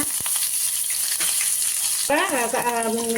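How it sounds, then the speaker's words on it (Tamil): Steady hissing sizzle of mustard seeds, urad dal, cumin and other spices frying in hot oil, with a brief stirring clatter and a faint voice near the end. "கடுகு உளுந்தம் பருப்பு சீரகம் போட்டு தாளிச்சாச்சு"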